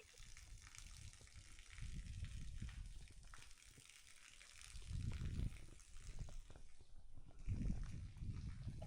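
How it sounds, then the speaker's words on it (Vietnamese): Water gushing from the outlet of a dam at a temple site in Dali, a broad steady rush with low surges swelling and easing, heard alone. "đây là tới chỗ xả nước rồi"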